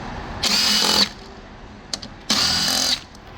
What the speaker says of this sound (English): Let's remove these 4 7mm bolts and we'll move to the next step.